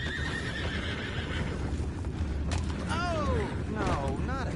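A horse whinnies twice in quick succession near the end in a video game, over ambient rumble and faint hoof sounds, with a brief murmur of background noise earlier.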